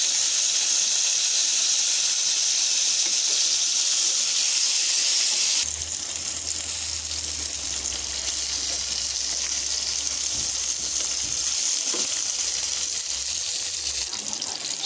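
Broiler chicken pieces frying in a pan give a continuous close sizzle and hiss, later joined by a low steady hum from the stove or kitchen, with faint clinks near the end.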